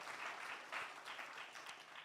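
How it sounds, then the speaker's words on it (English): An audience at a Kenyan population and development conference claps, a dense, even burst of applause that carries on through the whole stretch, with no voice heard. "Give them a round of applause for putting this together."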